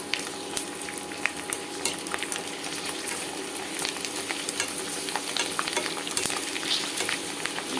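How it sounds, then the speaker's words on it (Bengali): Potato chips fry in hot oil and are turned over, giving a dense, steady crackling sizzle with small scraping stirs throughout, close and fairly loud, with no talking. "এই তেলটা গরম হয়ে গেছে এবং এটাকে আমি সুন্দরভাবে উল্টে পাল্টে ভেজে নেবো"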